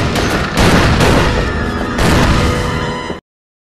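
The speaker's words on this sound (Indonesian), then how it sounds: "Wanita itu malah keluar dan mulai melepaskan tembakan." Rapid bursts of gunfire crackle loudly in dense volleys, a few heavier booms mixed in, ending abruptly after about three seconds.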